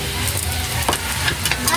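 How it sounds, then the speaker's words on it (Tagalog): Garlic sizzles steadily in a hot pan as it is sautéed for pork giniling menudo, with close, continuous frying crackle and occasional stirring scrapes. "Ay, maggisa na po tayo. Ayan, yung bawang."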